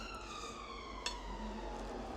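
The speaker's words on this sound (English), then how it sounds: "when I start filming, the sirens are out." Emergency vehicle sirens sound faintly along a quaint village street in Hebden Bridge on a Wednesday morning, a steady wailing tone at a distance over low background hum.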